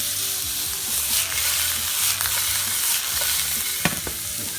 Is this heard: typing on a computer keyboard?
no